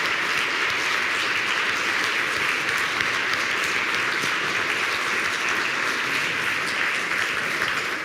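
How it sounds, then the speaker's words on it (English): A lecture audience in Munich gives sustained, heavy applause after a talk on AI by Yoshua Bengio, a thick, unbroken roar of many clapping hands at a constant level. "A round of applause."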